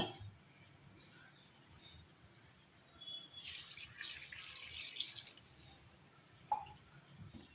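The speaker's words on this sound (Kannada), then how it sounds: "ಇವಾಗ ನಾನು 2 ಗ್ಲಾಸ್ ನೀರು ಹಾಕ್ತಾಯಿದ್ದೀನಿ." Two glasses of water poured into a pot of ridge gourd sambar, a steady splashing rush lasting a few seconds, fairly close and with no talk, followed by a brief clink.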